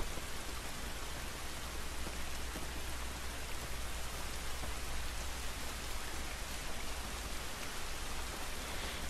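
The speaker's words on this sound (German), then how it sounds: "Dieser Regen ist nicht gut für uns." Steady, close rain pours down in The Last of Us Remastered on PlayStation 4, a dense, even hiss of drops with no pauses and no voices.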